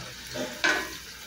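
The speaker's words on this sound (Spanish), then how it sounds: "Aquí ya estoy friendo las papas a la francesa, los bisteces encebollado." French fries fry in a pan in a home kitchen, a brief hiss of oil with a soft stirring scrape, close and moderately loud, with no one talking.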